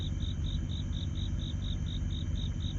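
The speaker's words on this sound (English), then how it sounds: "Literally crickets." Crickets chirp steadily in the background, a regular train of short high-pitched pulses over a low rumbling ambient bed, continuous and moderately faint, with no talking.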